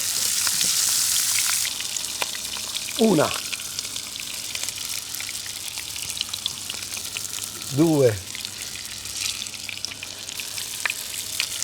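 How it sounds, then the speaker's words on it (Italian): Garlic frying in extra virgin olive oil gives a steady sizzle throughout, with a voice briefly counting over it at moments. "L'aglio, friggete anche l'aglio, serve, è buono."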